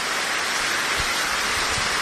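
Heavy rain pours down in Abohar, a dense, even hiss of drops across the whole moment, steady and loud with no pauses.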